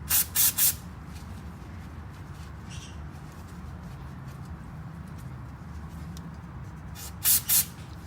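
A few short, loud hissing bursts of brake cleaner sprayed onto a Lexus LX 570 brake caliper, with a pair of quick shots at the start and two more near the end over a low background hum.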